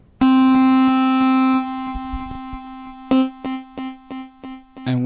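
A Korg Volca synth sounds with all three VCOs slightly detuned together: one loud sustained buzzy tone for over a second, then a run of short, evenly spaced repeated notes.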